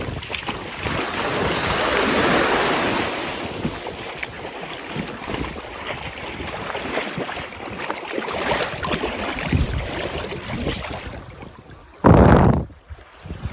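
Atlantic Ocean waves and strong wind at Crystal Crescent Beach in Canada, heard as a loud, continuous roar of surf and gusts buffeting close by. A sharp burst of wind noise comes near the end.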